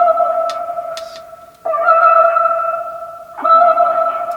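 A worship hip-hop beat, synth-heavy with sustained tonal chords, dry-ish with a short reverb tail and no reverb sends, changing notes in abrupt steps, a few high clicks early on.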